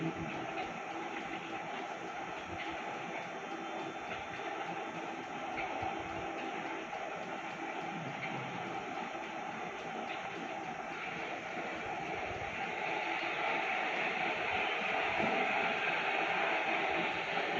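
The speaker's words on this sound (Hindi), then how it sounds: "मेट्रो में जा रहा है" A Delhi metro train rumbles along in a continuous droning ride, a steady mix of wheel noise and carriage hum heard from inside, growing a little louder and brighter toward the end.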